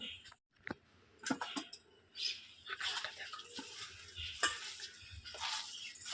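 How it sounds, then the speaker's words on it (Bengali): Jute leaves being mixed by hand with gram flour, salt and black cumin, giving soft, irregular squelching and rustling handling sounds with a few sharper clicks, close and fairly quiet. "এবারে আমি অল্প করে আমি বেসনটা দিয়ে শাকটা মাখাবো"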